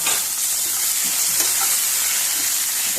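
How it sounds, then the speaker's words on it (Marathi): Tomatoes go into a pan of frying onions for a Goan green chicken, a dense, close sizzle with soft stirring scrapes running steadily for a few seconds, with no talking. "मागीर भितर आतां टमॅटो घालपाचो"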